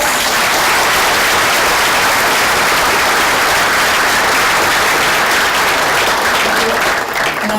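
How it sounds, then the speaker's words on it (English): A large audience at a St. Francis College Charter Day ceremony applauds the college honorees, a loud, dense and sustained wash of clapping that fills the whole stretch without pause. "Let's give everyone all the honorees so far another round of applause"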